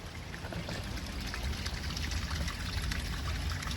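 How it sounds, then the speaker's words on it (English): Silver Falls waterfall pouring continuously, a steady broadband rush of falling water heard from a distance, fairly faint with no talk over it. "Look at that waterfall."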